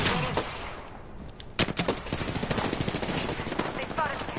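Video game gunfire crackles in rapid bursts, with sharp single shots and quick automatic volleys during a battle-royale match, loud and close amid background game ambience.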